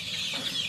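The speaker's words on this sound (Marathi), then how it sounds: "कोंबड्या वेचून खातात परत" Hens cluck close by while pecking at scattered feed on a farm, a short burst of soft, busy clucks with no talk.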